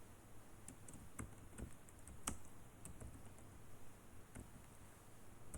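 Typing on a computer keyboard, a faint, irregular run of light key clicks heard close and alone, with no talk.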